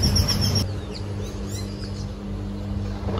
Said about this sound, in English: The bird is just pooping on me.